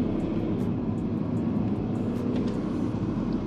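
A Mercedes S350 diesel long-wheelbase sedan accelerating as the gas pedal is pressed, a steady low engine drone and road rumble heard from inside the cabin, with no talk.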